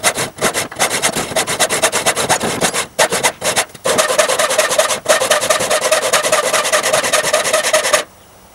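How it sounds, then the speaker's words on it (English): A handheld saw rasps through a metal bolt on a homemade GoPro handle, rapid back-and-forth strokes close and loud, with a few brief pauses before a steady continuous stretch that stops abruptly. "I'm just going to go ahead and slowly take my time and cut through the bolt."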